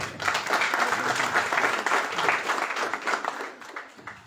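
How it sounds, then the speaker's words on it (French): An audience applauds engineers at a media monitoring inauguration ceremony in the Comoros. The clapping is dense and sustained, fairly close and steady throughout, then tapers slightly at the end. "Je vous demande de les applaudir."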